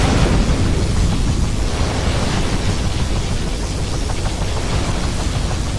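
A particle cannon blast in C&C Generals Zero Hour, a loud, continuous broadband roar of energy and rumbling destruction that holds at full strength for several seconds with no voices.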